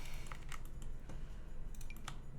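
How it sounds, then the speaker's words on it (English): Soft, crunchy computer keyboard typing with quick irregular keystrokes close to the microphone, fairly quiet and steady with no talking. "My keyboard is a crunching sound."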